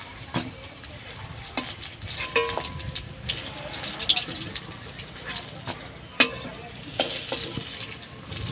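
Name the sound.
eggplant frying in a pan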